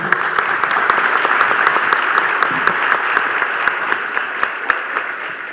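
Audience at a panel discussion on Caribbean energy breaks into steady, moderately loud applause, a dense clatter of many hands with a few sharper claps standing out, lasting several seconds before easing slightly.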